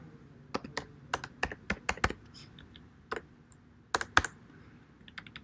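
Typing on a computer keyboard while editing text in WordPress: a quiet, irregular run of crisp key clicks in small bursts, with short pauses between words and no talking.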